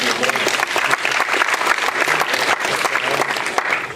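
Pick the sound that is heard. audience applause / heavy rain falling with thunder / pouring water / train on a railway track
audience applause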